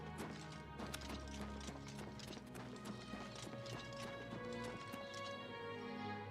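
Horse in the Oblivion Remastered video game, steady clip-clop of hooves in a quick regular rhythm, moderately close and continuous over soft background game music.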